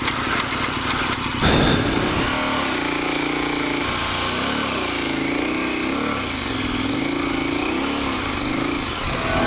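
A motorcycle engine runs steadily throughout on an adventure bike tour in outback New South Wales, loud and continuous with the revs rising and falling, after a brief burst of noise early on.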